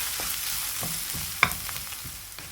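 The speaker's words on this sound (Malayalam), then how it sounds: "ഒരു അഞ്ചാറ് വെളുത്തുള്ളി ഇതുപോലെ ഒന്ന് ചതച്ചെടുക്കുക അത് വിട്ടിട്ടൊന്ന് മൂപ്പിച്ചെടുക്കുക" Crushed garlic and onions fry in a pan, a close continuous sizzle broken by the scrape and clack of stirring and one sharp knock of the utensil against the pan, with no speech.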